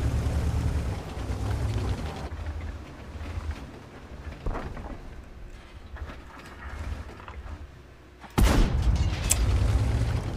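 A World of Tanks tank grinds and rumbles with mechanical clanks, then its cannon fires with a sudden loud, heavy boom near the end that rolls on afterward.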